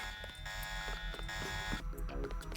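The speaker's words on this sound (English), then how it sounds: "I hear only one alarm now." An electronic alarm buzzes with a harsh, steady tone and rhythmic pulses, loud and close, continuing through the whole stretch with a brief dip near the end.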